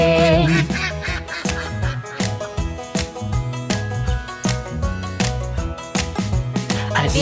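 Repeated duck quacks ring out in lively bursts over a bouncy, rhythmic music track.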